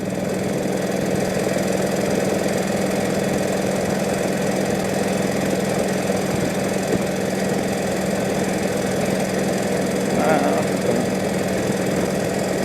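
A 1948 Indian motorcycle engine runs steadily at idle, a continuous low hum with a faint knocking pulse throughout, close and constant.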